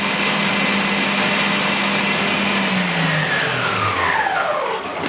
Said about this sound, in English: It'll start to whiten as you whisk more air into it.